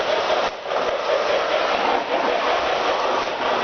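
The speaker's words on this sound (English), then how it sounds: "Now let's try following the train around." A small Lionel model train hums and rattles steadily along its track, a continuous close whirring with faint rhythmic clicking throughout.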